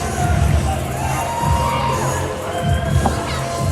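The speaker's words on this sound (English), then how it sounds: "I can't believe these people are cheering on these old men and some math teacher" A wrestling audience cheering at a live show, with loud, continuous crowd noise, shouts and whoops from many voices, close and sustained with rhythmic surges.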